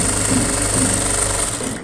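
Sewing machine stitching a fall onto a saree, running as a steady, even mechanical hum with a fast needle rhythm. It is close and loud and continues without a break until it slows near the end.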